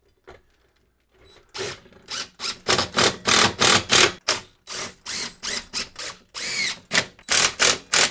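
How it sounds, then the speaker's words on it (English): A power driver with a 10mm socket drives a screw and washer while mounting a full-motion TV wall mount, giving a loud series of short whirring bursts separated by brief pauses, close up with no talking. "So I got the screw and a washer, and I'm using a 10mm socket to drive that in."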